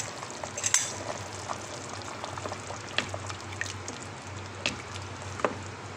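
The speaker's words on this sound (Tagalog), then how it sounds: "Tapos, haluin natin." Menudo in tomato sauce is stirred in a pan, a quiet soft simmer with faint scraping and a few sharp clinks of the utensil against the pan.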